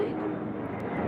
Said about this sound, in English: Large plane going overhead